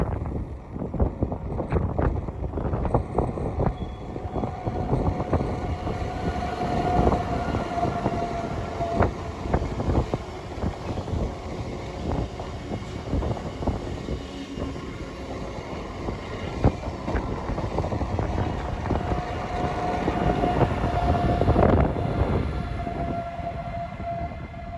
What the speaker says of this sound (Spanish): Aquí tenemos otro en sentido contrario.